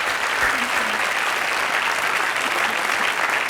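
Studio audience applause fills the whole stretch, a dense, steady wash of many hands clapping at even loudness with no voices on top.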